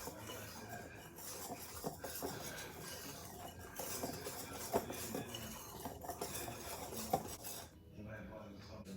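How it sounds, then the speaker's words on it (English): A whisk stirs flour, salt, baking soda and sugar in a bowl, a faint, continuous scraping and clinking against the bowl's sides with occasional sharper taps, close by and quiet. "I'm going to whisk the dry ingredients together until they're well blended."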